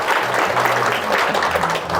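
Audience applause welcoming a guest onto a car talk show set, steady close clapping for two seconds with a voice speaking underneath.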